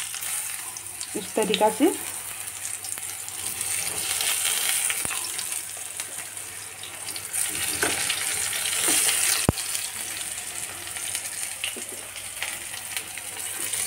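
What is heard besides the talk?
stuffed eggplant frying in hot oil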